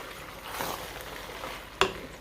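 Two pounds of cooked ground beef dropped into a frying pan, giving a soft sizzle and scraping with a sharp clunk near the end, close and brief.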